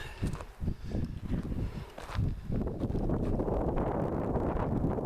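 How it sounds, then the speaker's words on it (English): Strong wind on a hilltop buffets the microphone in low roaring gusts, with some rustling and footstep-like thumps early on before the blustering settles into a constant rumble. "Pretty windy up here"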